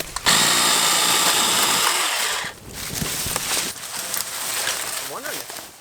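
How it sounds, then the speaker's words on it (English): An electric chainsaw cuts through a dead wood log outdoors, a loud continuous motor whine that dips and resumes as it bites through, with voices talking over it in the latter part. "having this electric chainsaw is perfect"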